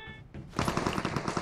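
Rapid bursts of automatic gunfire in the battle royale game PUBG Mobile, a regular train of loud shots starting about halfway through after a quieter lead-in, with no talk over them.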